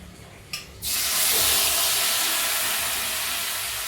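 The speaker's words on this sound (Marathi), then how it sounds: "छान अशी आपल्याला ग्रेव्ही मस्तपैकी आपली ह्याच्यामध्ये फ्राय करायची." Masala paste hits hot ghee in a pan and bursts into a loud, steady sizzling hiss that holds without a break, after a brief faint clink just before.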